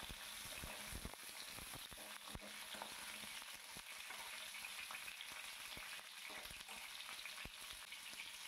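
Pointed gourds sizzle in hot oil in a pan, a steady close frying hiss with scattered clicks and scrapes as they are stirred up and down, no voices.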